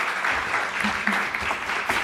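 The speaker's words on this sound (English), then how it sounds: "please give him a warm applause" Steady audience applause from a conference session crowd, a dense continuous patter of many hands clapping at moderate loudness throughout, with no voices on top.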